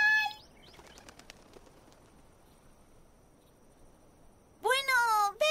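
A flock of cartoon birds flutters and flaps its wings in a My Little Pony episode, with a burst of rapid wingbeats early on, a quiet stretch, then a loud sweeping chirping cry at the end.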